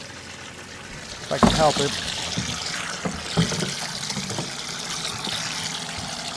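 Water dumped out of a livestock water trough in a ram lamb pen splashes and trickles onto the ground in a few uneven gushes, with a person talking briefly over it.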